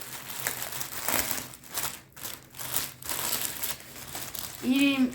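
Plastic packaging around a bath mat crinkles and rustles as it is opened, soft irregular crackles with a short tonal squeak near the end, while someone talks quietly.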